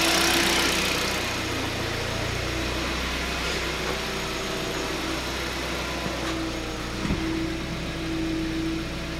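A 2012 Hyundai Solaris engine idles at about 900 rpm while warming up after a throttle body cleaning. The idle speed wanders, heard as a close, steady low hum with a faint knock near the end.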